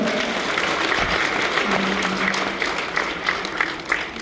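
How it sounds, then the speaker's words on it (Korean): An audience at a civic talk concert with a district mayor breaks into sustained applause, a dense wash of many hands clapping that holds steady and tapers slightly, with a brief voice in the middle. "동의하시면 박수 주세요"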